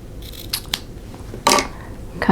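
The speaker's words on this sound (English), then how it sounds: "I'm going to go ahead and trim off these dog ears, these little corners" Scissors trim the small dog-ear corners off quilt fabric pieces for a quilt block, a few close, crisp snips with pauses between them.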